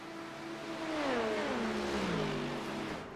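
Racing car engine in a sim racing endurance broadcast, an LMP2-category 908 car revving past with a doppler-like pitch sweep, the sound swelling then falling away over a few seconds, heard quietly without talk.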